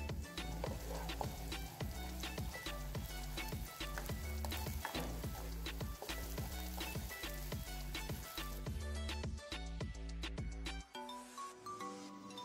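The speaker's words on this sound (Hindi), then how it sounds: "अब लेंगे ऑयल, उसे अच्छी तरह से गर्म कर लेंगे और फिर डाल देंगे प्याज और गोल्डन ब्राउन होने तक इसे भून लेंगे।" Chopped onions sizzle steadily in well-heated cooking oil for a minced meat and vegetable curry. The hiss is constant and crackling, close and fairly loud, and it thins out toward the end.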